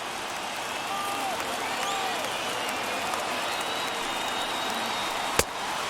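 A simulated baseball stadium crowd of over 39,000 in MLB The Show 21 roars steadily in the ninth inning, a continuous wash of cheering with one sharp crack near the end.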